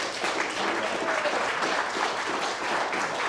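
Applause from an audience at a county commissioners' public meeting, a steady dense wash of many hands clapping throughout, fairly loud and continuous with no clear pauses.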